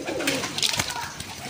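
Domestic pigeons, Iraqi or imported birds, coo in a steady, dense murmur with a few brighter calls rising over a constant background hum.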